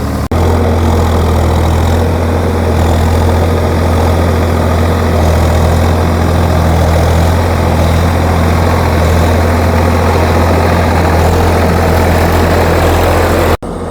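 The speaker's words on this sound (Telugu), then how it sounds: "అసలు ఎప్పటికైనా గొల్ల అవుతుందా కాదన్నట్టుగా రోటావేటర్ అనేది వేస్తున్నాము" Swaraj 744 FE 4x4 tractor running a rotavator through a muddy field, its engine a steady, loud low drone with a constant deep hum throughout and no talking.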